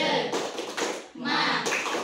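Elementary school children in a classroom clap in short rhythmic bursts while chanting together, voices and hands mixed in a loud, close group.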